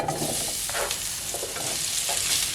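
Chopped potatoes for poha tossed into hot oil fry with a loud, dense sizzle and crackle, stirred with soft scraping throughout, close and continuous with no talking.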